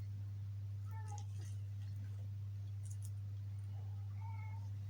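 A house cat meowing indoors: two brief meows a few seconds apart, fairly faint over a loud steady electrical hum.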